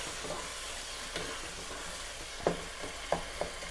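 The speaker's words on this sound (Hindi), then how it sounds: "इसे आप अच्छे से मिक्स कर रहे हैं।" Mutton keema with spinach and dried fenugreek (kasuri methi) is stirred in a pan: a faint, low sizzle with a few sharp spatula taps and scrapes toward the end, no one speaking.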